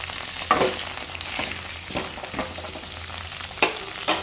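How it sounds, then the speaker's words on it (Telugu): Ivy gourd pieces fry in oil with ginger and garlic. A close, steady sizzle is broken by repeated scraping and knocking strokes as the pieces are stirred in the pan. "కొంచెం పచ్చివాసన పోయేదాకా దొండకాయలు వేసుకోవాలి నూనెలో."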